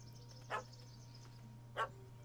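Two short barks from a puppy in Witcher 3: Hearts of Stone, spaced about a second apart over a low steady hum, fairly faint and slightly distant, with no talk.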